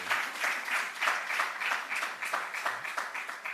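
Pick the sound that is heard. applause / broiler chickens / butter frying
applause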